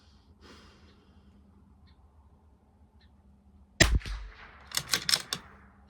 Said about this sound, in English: First shots, top left target.